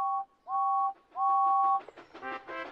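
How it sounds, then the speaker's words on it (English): A steam engine whistle from a Thomas the Tank Engine remake sounds in three clear tones, two short and one longer, followed by a louder burst of overlapping whistle and chuffing sounds. "Then Thomas heard a whistle."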